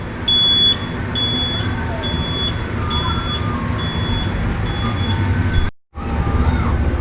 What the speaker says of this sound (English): that beeping is really loud.